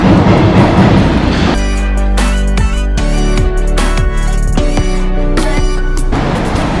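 A loud Paris Metro line 3 train rumbles along with steady mechanical whine and tonal hum from the carriage, rising pitches as it accelerates.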